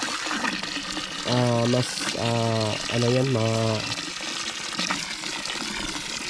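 Water from a water pump hose flows hard in a steady, loud rush. Someone talks over it with short, strained voiced sounds.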